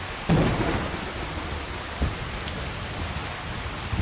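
Steady, heavy rain pours down in the video game Skyrim, with a low thunder rumble at the start and a brief crack partway through, all without voices.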